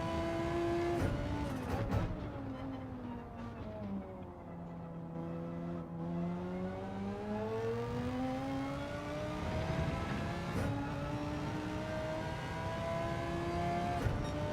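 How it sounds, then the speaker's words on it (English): Race car engine in a racing game climbs in pitch as the turbo kicks in, a steady harmonic drone dipping and rising through shifts, with faint tire noise, continuous and moderately quiet. "When the turbo kicks in."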